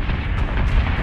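Ship weapons fire in the Battlestar Galactica Deadlock video game as a loud, rumbling burst of explosive booms that fills the whole second.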